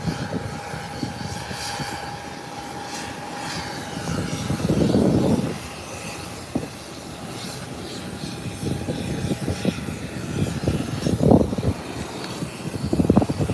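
An American Airlines airliner at an international airport gives a steady, moderately loud engine roar that swells briefly and eases off, heard alone without talk.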